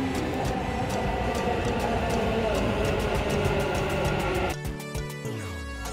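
A metro train arrives at a station platform, rolling with a steady rumble and rhythmic clicks before slowing with a falling mechanical whine, heard nearby amid station ambience.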